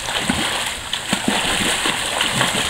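A child swims in an outdoor pool in Florida, making close, irregular splashes and sloshing water, with faint voices in the background.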